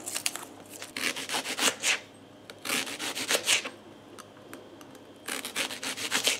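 A knife slices peeled onions into small rings for a bread-and-cheese soup, heard as three bursts of quick, close scraping cuts separated by short pauses, with no talking.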